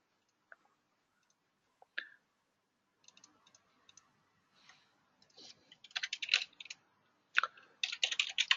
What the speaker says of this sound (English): Hope I'm typing questionnaire correctly